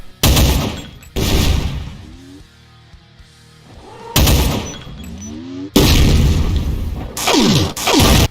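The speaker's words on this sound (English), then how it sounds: "it fires a demon tech railgun shot" Demon tech railgun shot from a Doom mod's Hell Knight variant, several loud, sharp blasts with long whooshing charge and sweep tails, separated by quieter gaps, close and forceful.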